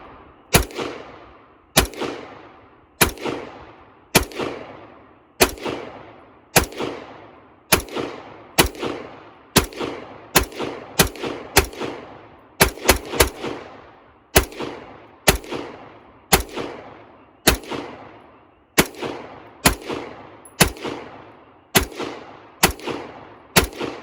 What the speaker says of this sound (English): we're just gonna send rounds downrange, and we're gonna try to see if we can get through that concrete block with 29 rounds of ammunition